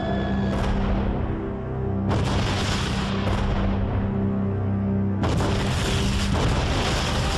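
Heavy booms and blasts roll through a dense, continuous roar as bombs fall on Darwin Harbour during the World War II air raid, loud and sustained with repeated sharp onsets.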